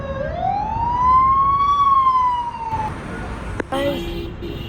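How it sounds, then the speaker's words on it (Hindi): A fire engine siren sweeps up and slowly down over road noise at a fire, then breaks off into a brief clatter and softer tones near the end. "3 फायर ब्रिगेड आ गई है, अभी और आ रही है"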